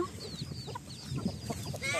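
Chickens cluck and murmur close by as they peck at a feed of coarsely ground maize and soybean mixed with leaves, steady soft calls over a low barnyard hum.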